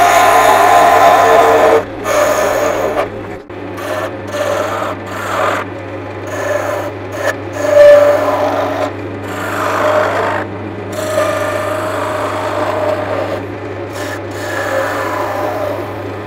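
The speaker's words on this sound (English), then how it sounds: "I'm going to take this out initially with a parting tool" A wood lathe turns an off-center disc while a parting tool cuts in, giving a steady rasping, scraping drone over a constant motor hum, loud and close. The cut briefly breaks off and resumes several times.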